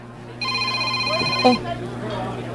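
A phone ringtone plays an electronic melodic tone for about a second, loud and close, over a steady background hum.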